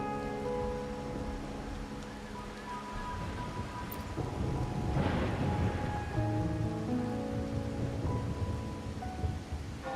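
Steady rain pours in Wuthering Waves, a dense hiss of drops on surfaces, with a rumble of thunder building midway and a soft musical score underneath.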